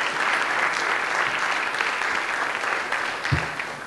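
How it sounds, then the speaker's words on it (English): An audience applauds steadily at an International Baccalaureate forum after a speaker is welcomed, a dense, sustained patter of many hands filling the room with no talk over it. "give him a round of applause"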